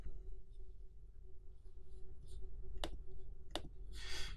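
Two sharp computer mouse clicks while working in an image editor, selecting the rectangular marquee tool and dragging over an image, heard close over a steady low background hum.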